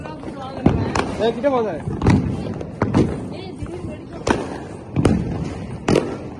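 Diwali firecracker shots bursting outdoors: several sharp cracks spaced about a second apart, moderately loud, with people talking and reacting over them.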